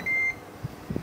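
Ninja Air Grill gives a single short, clear electronic beep as its lid is closed, followed by faint soft clunks in a quiet kitchen.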